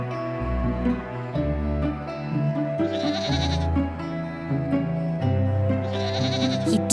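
Goats bleat loudly and repeatedly in a bedtime story for toddlers, overlapping cries wavering one after another with no talk, forming a close, continuous chorus.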